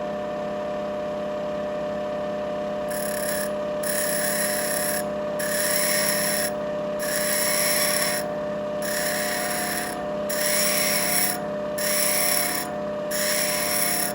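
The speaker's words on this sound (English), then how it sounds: "I'm going to use this hand to guide the drill bit onto the wheel." A drill bit is sharpened on a grinding wheel, a continuous motor hum with a harsh rasping grind recurring in repeated strokes of a second or two as the bit moves back and forth, with no talk.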